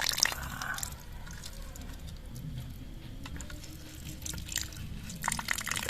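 Water pours steadily over a small RC farm tractor set under a toy waterfall, a continuous close patter and splash with brief drips, plus faint clatter at the start and end.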